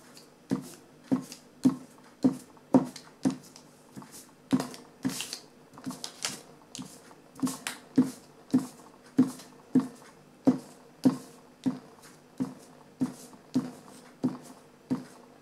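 Glue is dabbed onto paper during a paper craft, making crisp tapping knocks at a steady rhythm, about two per second, close and moderately loud with no talk.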